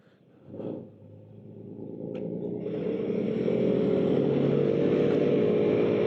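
A small motor engine starts up and builds into a steady, buzzing drone that grows louder and holds, like a scooter underway.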